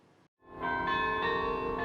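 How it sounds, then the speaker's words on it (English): Carillon bells of the Netherlands Carillon bell tower ring out after a brief silence, a sustained, resonant chord of overlapping tones swelling and holding clearly. "This is the Netherlands Carillon, one of the many monuments"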